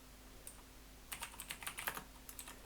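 Quick bursts of keystrokes clatter on a computer keyboard as code is typed into a script for a game project, with an irregular rhythm and short pauses over a quiet room hum.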